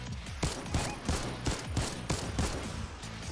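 Gunshots in the Fortnite video game, a steady run of about eight evenly spaced punchy shots roughly every third of a second, close and loud with no talk over them.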